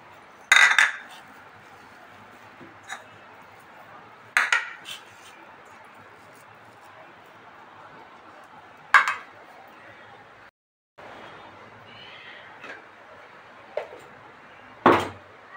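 Metal spoon clinks against a serving bowl while onion chutney, a spicy Kadapa-style onion, garlic and chili paste, is transferred, giving a few sharp isolated taps spaced seconds apart over a quiet kitchen background.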